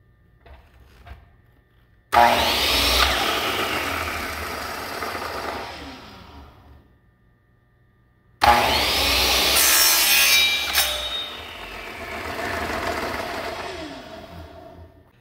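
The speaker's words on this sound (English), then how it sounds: "I'm going to cut on the very corner, and I'm going to cut a 45 degree" A power saw makes two long, loud angled 45-degree cuts through wood for a lint trap cover. Each cut starts abruptly and whines for several seconds before trailing off, with a short quiet gap between them.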